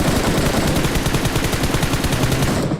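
Rapid automatic gunfire from BGMI mobile battle royale gameplay, loud and continuous bursts of shots filling the whole moment with no talk.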